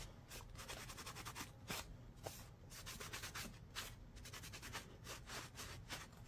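A cloth rubs wax into wood for an aged finish, making soft, rhythmic back-and-forth swishing strokes that are quiet and close, with no voice.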